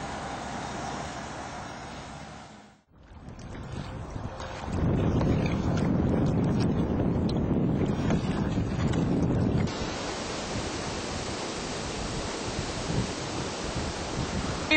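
A boat moves across flood water as a steady, fairly loud whooshing wash of water and wind, rising midway and then easing to a lighter rushing sound.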